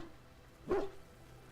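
A dog in the video game Dragon Age: Origins gives a single short bark, near and clear, against a quiet background.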